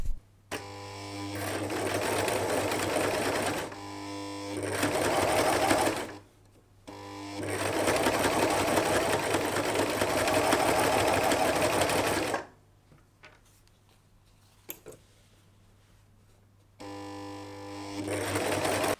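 A sewing machine stitches patchwork cushion strips in long, loud, steady whirring runs broken by short pauses, with faint handling noises in the quiet gaps.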